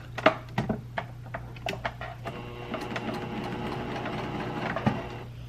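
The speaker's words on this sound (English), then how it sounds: "I'll take you over and let you see me sew it. Sewing 1/4 of an inch." A sewing machine runs in short bursts and then a steady stitching run, stitching a quarter-inch seam on a costume glass bra, mechanical and close with a faint hum beneath.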